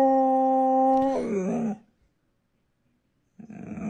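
A dog gives one sustained tonal howl that bends down and breaks off, followed by silence and then a burst of speech.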